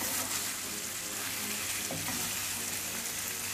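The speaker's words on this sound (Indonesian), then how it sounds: "Daging ditumis hingga keseluruhan permukaannya terlumuri oleh bumbu." Beef sautéing with spice paste in a pan for Semarang-style asem-asem, a steady, close, dense sizzle and crackle running continuously without pause.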